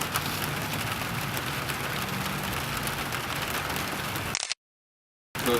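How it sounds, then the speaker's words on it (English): Steady rain falls in the desert, an even, moderate hiss of drops on surfaces that runs unbroken for several seconds and then cuts out abruptly to silence before briefly resuming. "Rain in the desert, who would have thought?"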